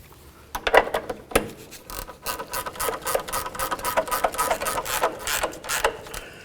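A 13mm ratcheting wrench tightens a nut on a rear sway bar link of a 2003-2009 Toyota 4Runner, giving rapid clicking bursts in a steady rhythm at close range, with no talk.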